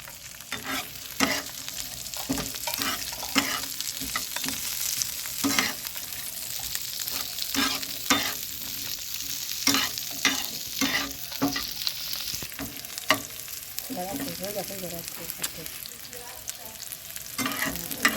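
Chicken pieces for chicken patiala fry lightly in a pan, with steady sizzling and repeated scraping stir strokes of a spatula recurring at an uneven rhythm throughout, close and moderately loud, with no talking.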